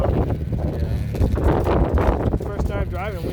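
Strong wind buffets the microphone at a car racing event on an extremely windy day, a heavy, continuous low rumble that runs under people talking.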